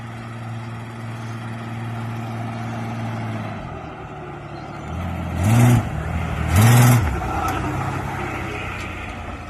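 A new car on a test drive, its steady engine drone easing off partway through before two short, louder revving surges rise close by; no voices.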